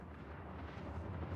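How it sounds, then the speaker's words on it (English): A deep, rumbling explosion boom rolls on continuously inside the space game Star Citizen, low and muffled as if distant, with no voices over it. "You hear that explosion? That boom?"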